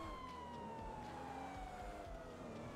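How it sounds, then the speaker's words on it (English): A police car siren wails steadily in GTA 5 roleplay, its slowly gliding tone sounding faint and distant over a continuous rumble of traffic and engine noise. "It's a known issue that sometimes police cars make noise."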